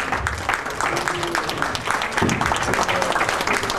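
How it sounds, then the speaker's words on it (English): A crowd applauds chamber sales team members being called up by name at a business gathering, a dense, steady round of clapping that fills the room, with a voice faintly audible underneath. "please give them a round of applause"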